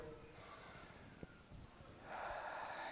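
A quiet, brief intake of breath through the nose, followed by a steadier rush of breathing noise near the end, close and soft.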